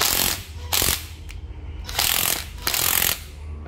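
Japanese cordless drill in drill mode, whirring in three loud bursts separated by brief pauses, each trigger pull starting and stopping abruptly.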